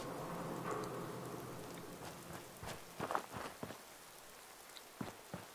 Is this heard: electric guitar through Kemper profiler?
no